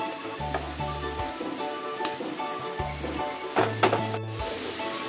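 Grated carrot and sugar are sautéed and stirred in a pan for carrot ladoo, a soft continuous sizzle with scraping stirs, joined by low droning tones in short bursts.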